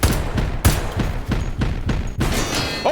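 Gas canisters bursting one after another in the VR shooter H3VR, a run of loud, closely spaced booming blasts with sharp onsets, about half a dozen in three seconds, each trailing into a noisy hiss.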